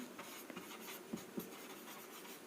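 Writing on a board during a maths lesson: faint, quiet scratching strokes in short bursts, with a couple of sharper taps as the marks are made, and no talk over them.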